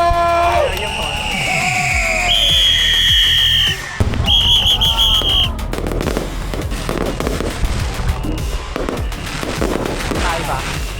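Loud high-altitude fireworks burst above a Taiwanese temple festival procession, with rapid crackling firecracker volleys, whistling shells and sharp pops amid a cheering crowd, sustained and close throughout.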